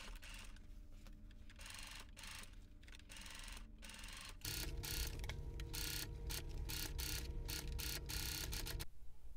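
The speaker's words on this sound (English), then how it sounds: "go ahead and finish off your seam allowance with your cover" A cover stitch machine runs steadily, finishing a seam allowance on a garment, its fast mechanical whir growing louder and denser about halfway through and continuing without pause until it stops abruptly near the end, with no talking.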